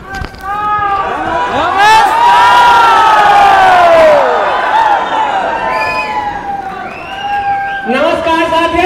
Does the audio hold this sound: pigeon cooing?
no